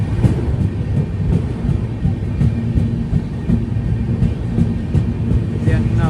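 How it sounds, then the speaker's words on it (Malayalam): A train rolls toward the Godavari river bridge with a loud, continuous low rumble and faint rhythmic clatter throughout. "ഗോദാവരി നദിയുടെ ഭാഗത്തേക്ക് ഇതാ ട്രെയിൻ എത്തി."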